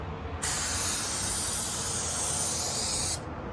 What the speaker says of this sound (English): Make sure you don't overspray so it doesn't soak through the cloth.